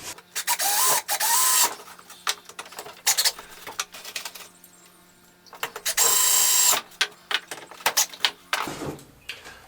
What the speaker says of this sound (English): So let's put a couple screws in it.